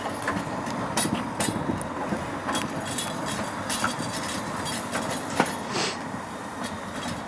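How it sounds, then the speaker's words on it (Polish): A Warsaw tram pulls away and turns at its terminus, its wheels clattering over the rails with a few sharp squeals and clicks, the steady rolling noise sitting at moderate distance with no voices. "Widzimy tramwaj, co teraz, co teraz będzie ruszać i też, i też będzie, można powiedzieć, tak zawracać."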